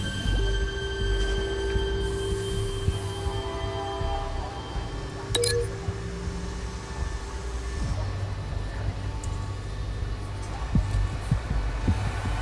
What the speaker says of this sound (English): The train car is their delivery system.